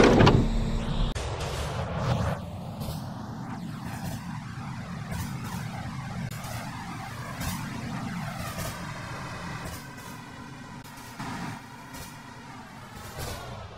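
A subway train's sliding doors close with a thump and hiss in the video game Roblox, followed by a steady rumbling hum of an R110B carriage starting to move.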